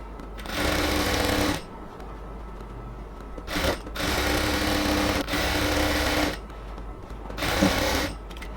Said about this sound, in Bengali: এই সেলাইটা দেওয়ার সময় অবশ্যই ইলাস্টিকটাকে দুদিক থেকে টেনে ধরে সেলাই করব